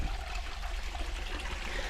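A small trickle of water runs from a farm water pipe, a faint, steady dribbling hiss with a low rumble beneath, continuous and without talk.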